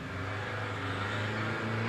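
Riley Sprite hillclimb car pulling away from the start line at Prescott 2022, a steady loud raspy engine note with a low droning hum building slightly over two seconds, no talking.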